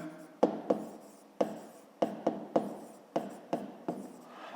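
A pen writes on paper in a maths exercise setting, with close, crisp scratchy strokes that come in short bursts, each starting with a light tap, about ten strokes in a few seconds.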